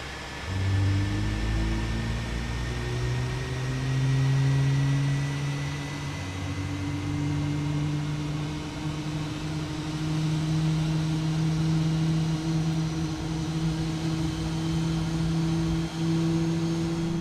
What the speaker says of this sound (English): And we'll start engine number 1.